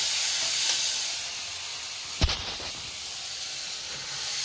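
A steady loud sizzle of spices dropped into hot oil, cooked with fish and sour greens, with one sharp clatter midway and then the frying hiss again.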